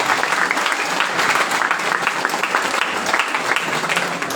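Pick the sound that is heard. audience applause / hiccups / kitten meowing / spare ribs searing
audience applause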